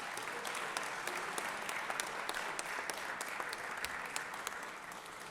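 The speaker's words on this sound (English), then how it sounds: "Let's give these young men a round of applause." Sustained applause from a Senate chamber audience honoring a state champion high school football team, steady clapping with scattered sharper claps, moderately distant and continuous without talk.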